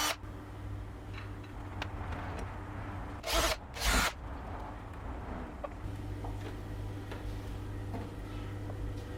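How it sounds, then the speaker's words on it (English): Two short bursts of a power drill whirring close by, back to back, drilling pilot holes for a door handle faceplate, over a quiet, low background hum. "Drill your pilot holes, put in your screws"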